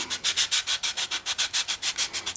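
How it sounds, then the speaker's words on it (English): Sandpaper rubbed back and forth over a curved 3D printed plastic part, about a dozen quick, even scratchy strokes in a steady rhythm, close and clear with no talking. "continue sanding it until we"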